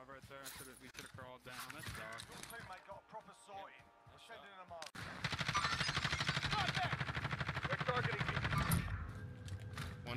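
Gunfire in Warzone, a steady loud burst of shooting filling the second half after several people talk over game sounds in the first half.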